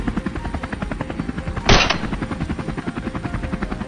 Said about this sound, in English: We quickly maneuvered the helicopter into position